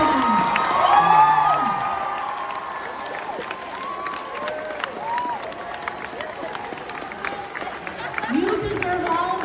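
Students in a school gym cheer, whoop and clap at a marathon dance fundraiser opening, a loud burst of crowd noise with high shouts that tapers into scattered clapping and rises again at the end.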